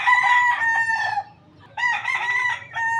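A gamefowl stag crows twice in quick succession, each a loud, close, drawn-out call separated by a short pause, with no other sounds around it.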